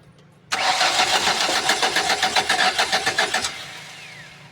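A Ford Escape engine cranks with a rapid rhythmic starter chug for about three and a half seconds without catching, then the cranking stops and it falls quiet; loud and close, with no talk.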